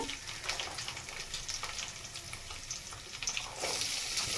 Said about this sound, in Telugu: ఇప్పుడు జీరా, రాయి, ఎండుమిర్చి,